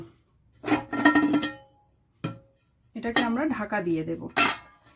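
A metal cake pot settled onto sand in a larger pan and then covered with its lid, heard as a few close metallic clanks and scrapes separated by short pauses.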